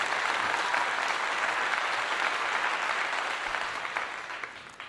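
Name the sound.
audience applause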